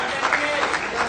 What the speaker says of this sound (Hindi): तालियां होती रहे आपकी ओर से।